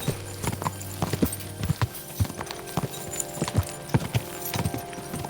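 Horse hooves clip-clopping in the video game Kingdom Come: Deliverance 2, a steady run of close, distinct hoof strikes in an uneven walking rhythm with a low background hum.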